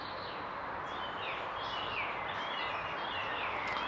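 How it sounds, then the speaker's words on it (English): Birds chirp in the trees at a quiet campsite during a motorcycle tarp overnighter, with thin, scattered high calls weaving over a steady, soft background hiss, fairly distant, with no talking. "it's just nice listening to the birds going chirping their hearts out in the trees"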